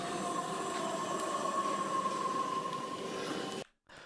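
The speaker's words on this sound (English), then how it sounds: "That's just the sound of the train!" A London Underground train running through a tunnel gives a steady, loud rumble with a sustained metallic whine and grinding. It cuts out abruptly near the end, then returns.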